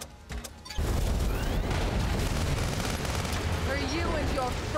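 A tank's main battery fires in the Sand Land video game, a heavy boom that opens into a dense, sustained roar of continuous gunfire and blasts lasting several seconds, loud and close.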